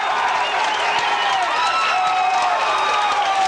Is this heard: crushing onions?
no